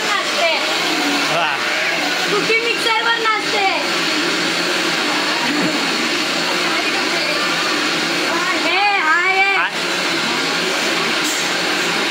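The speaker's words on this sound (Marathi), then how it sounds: "आता आम्ही करणार आहोत कांद्याचा मिक्सरला लावून कांद्याचा मसाला" A mixer grinder roars steadily the whole time grinding onion masala, a loud whirring motor grind, while voices talk over it now and then.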